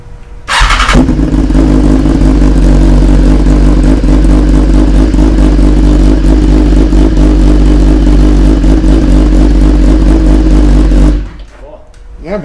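A 2017 BMW S1000RR motorcycle fitted with a Power Commander V starts up close by and settles into a loud, steady idle with a constant throbbing hum, then cuts off near the end.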